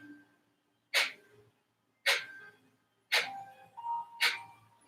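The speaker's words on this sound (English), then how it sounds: "We're pumping the abdomen and the breath is coming out of our nostrils" Four sharp, forceful nasal exhalations of Kapalabhati yoga breathing, each a short loud burst of breath spaced about a second apart, with near silence between them.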